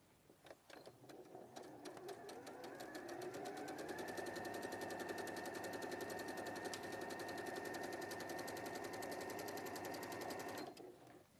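A sewing machine runs in a long continuous burst of rapid, steady stitching, forward then reversing, loud and close with a brief start-up and abrupt stop.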